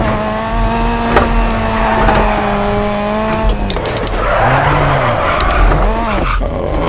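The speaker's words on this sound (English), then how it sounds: "that's what happens if you yank the handbrake too hard" A DiRT 4 RX2 rally car skids after a hard handbrake yank: the engine note holds, then drops away into a loud, rough slide with scrabbling tyres and wavering engine revs, all close and continuous.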